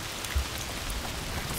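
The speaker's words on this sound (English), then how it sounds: "Foul rain." Dense rain pouring in A Plague Tale: Requiem, a continuous close hiss of drops striking surfaces with a soft low thump, steady and loud for a brief moment without any talking.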